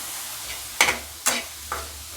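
Onions soften in a frying pan for a bread breakfast dish, a spoon scraping and stirring through them in three distinct strokes over a quiet background with faint sizzle.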